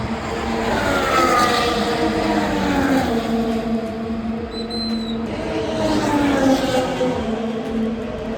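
Formula One cars drone continuously from trackside above the McLaren garage at the US Grand Prix, engine pitch rising and falling as they pass, loud and sustained with a faint whine.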